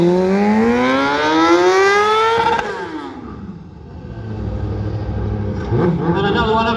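A stunt motorcycle at a stunt show revs hard, its engine pitch climbing steadily then dropping away, followed by a lower, rougher idle and a brief rise, loud and close with no speech.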